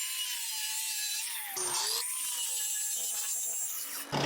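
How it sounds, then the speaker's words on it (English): A grinder takes mill scale off thick steel for a 1940 Ford truck chassis, a loud continuous close whine and abrasive hiss with a brief dip in pitch midway as the tool loads. "we just grind the top of the mill scale off"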